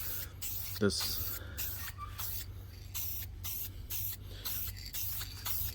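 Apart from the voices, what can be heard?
spray painting light coats on a car part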